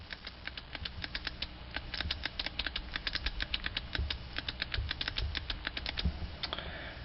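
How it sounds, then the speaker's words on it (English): Rapid, crisp key clicks as a text message is typed on a BlackBerry 9550 phone keyboard, a quick, uneven run of small taps close up with no talking. "We're going to tap out a quick text message just to see how much better the keyboard is."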